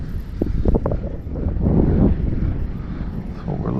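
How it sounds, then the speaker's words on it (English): Wind whipping across a lake during winter bass fishing, a steady gusty rushing roar buffeting the microphone, close and continuous with no talk. "Got the wind whipping through here."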